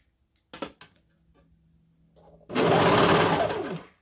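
A serger overlocks double brushed poly fabric in one loud, steady buzzing run. A few clicks and a faint hum come before it, and it winds down at the end.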